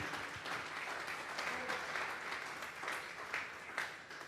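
A church congregation applauds during a Sunday afternoon service, a dense, steady wash of clapping hands filling the room for several seconds with no break.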